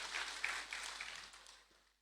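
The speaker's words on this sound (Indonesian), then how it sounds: "Berikan tepuk tangan yang meriah buat Tuhan Yesus." A church congregation at an Easter service gives lively applause, a faint, diffuse wash of many hands clapping that fades out over about two seconds.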